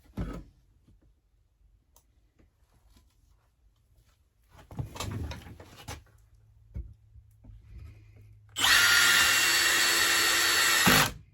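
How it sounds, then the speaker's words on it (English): A power drill drives screws into a workpiece in a home workshop, a loud steady whir of about two and a half seconds at the end, preceded by quieter handling knocks and a brief shorter burst. "I'm gonna get some screws in it and put this thing on the market."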